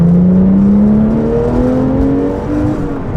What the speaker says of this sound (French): Allez, on accélère, on va monter dans les tours.